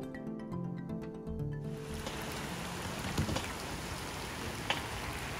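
Heavy rain pours steadily onto a flooded road in Yamaguchi, a dense continuous hiss of falling water that swells in after a brief musical opening and stays loud throughout.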